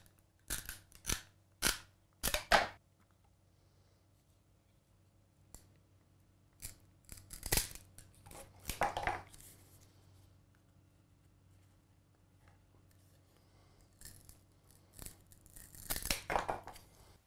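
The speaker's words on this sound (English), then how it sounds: "Now we've cut up about 5 canes" A handheld pruner snips through garden canes being cut into lengths for a mason bee habitat, giving sharp, close clicks in scattered clusters separated by quiet pauses.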